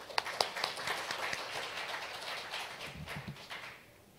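Conference audience at an agricultural policy forum applauds an incoming speaker. Quiet, fairly distant clapping with individual claps audible, thinning and dying away at the end.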